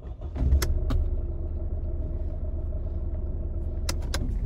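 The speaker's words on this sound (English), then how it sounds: "Wait one moment and then start the vehicle." A 2013 Mercedes-Benz SLK starting on a newly programmed spare key, a brief cranking burst settling into a low, steady idle rumble heard up close, with a few sharp clicks and clatters near the start and end.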